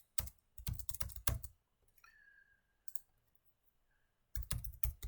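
Code being typed on a computer keyboard while programming a Greenfoot game, with quick bursts of close key clicks at the start and end and a quieter pause in between.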